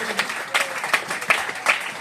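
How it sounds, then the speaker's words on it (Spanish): Applause from a church congregation, a steady burst of many hands clapping with bright individual claps standing out, continuing for a couple of seconds. "Denle un aplauso a eso."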